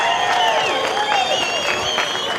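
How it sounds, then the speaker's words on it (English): A large beachside crowd claps and cheers at a pro surfing trophy presentation on the Gold Coast, a broad sustained wash of applause under a sharp whistle and PA ringing. "Give yourselves a round of applause."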